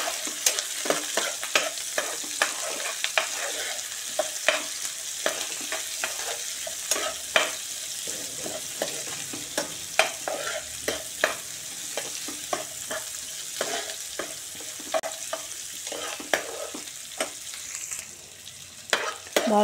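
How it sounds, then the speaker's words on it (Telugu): Onions and about ten cashews fry in a pan for paneer matar butter masala gravy, a steady crackling sizzle broken by frequent sharp clicks of a spoon stirring, close and fairly loud throughout. "ఆనియన్స్ అలాగే జీడిపప్పు, ఒక 10 జీడిపప్పు వేసుకొని వేయించుకున్నామండి బాగా."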